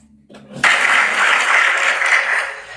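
An audience claps in a dense, sustained wash of applause that swells in abruptly after a quiet moment and holds steady to the end.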